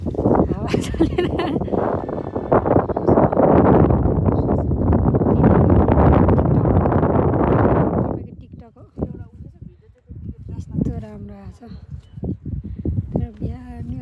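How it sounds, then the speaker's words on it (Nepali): Strong morning wind on a hillside above tea gardens roars and buffets the microphone in a loud, continuous rush for several seconds, then drops away as a person talks. "तर बिहान हावा चल्दो रहेछ।"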